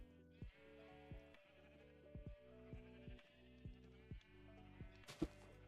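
Repeated sheep bleats from Minecraft, several wavering calls in a steady rhythm, fairly close and clear, with a brief sharp click near the end.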